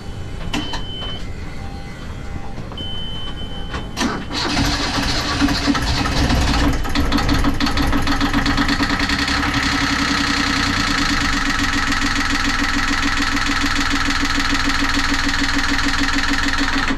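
Inboard engine of a C&C 35 MkIII sailboat cranking briefly, then catching and settling into a loud, steady idle with a mid-pitched rumble and clatter, heard close in the engine compartment without speech.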